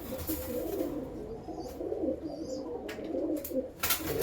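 Male pigeons coo in soft, throaty, repeated bursts close by, with a few faint chirps scattered among them and no speech.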